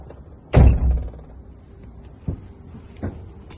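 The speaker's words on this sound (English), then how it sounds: "So rear doors open, open properly and lock properly from inside." Rear doors of a large commercial vehicle, checked during a pre-trip inspection, open with a loud close-up heavy thunk, followed by two lighter clunks as the latches lock, with no talking.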